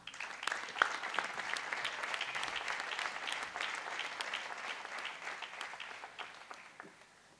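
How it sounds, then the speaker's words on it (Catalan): Crowd applause at a Festa Major opening proclamation in Móra d'Ebre, steady dense clapping for about seven seconds that thins and fades toward the end. "Un fort aplaudiment."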